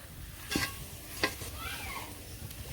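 Raw green mango pickle being mixed with spices by hand, giving two or three short scraping stirs against the bowl over a soft background hiss, with a faint bird call near the end.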